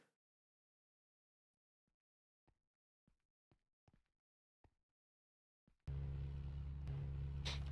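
Car engine in the Minecraft FTB Trident modpack starting up after a few quiet taps, then a loud, steady low droning rumble that runs on without pause.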